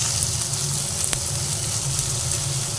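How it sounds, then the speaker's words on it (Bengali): Chopped onions sizzle in hot mustard oil in a kadai, a steady close-up frying hiss with a single sharp click partway through. "এরপরে কড়াইয়ের ওই তেলের মধ্যে কুচানো পেঁয়াজ দিয়ে দিলাম। পেঁয়াজটা দিয়ে নিয়েছি, এরপরে পেঁয়াজটাকে ভেজে নিচ্ছি।"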